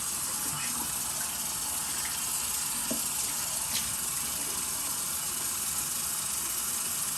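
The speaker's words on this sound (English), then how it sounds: "Rinse my hands." Tap water runs steadily over hands being rinsed at a sink before a razor shave, a continuous broadband splashing rush at moderate level with no talk over it.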